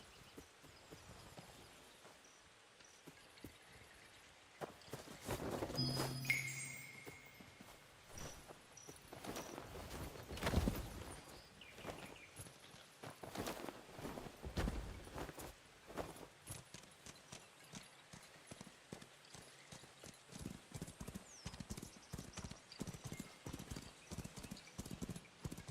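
Steady clip-clop of horse hooves trotting along in a video game, a continuous rhythmic clatter with a brief whinny early on, no talking.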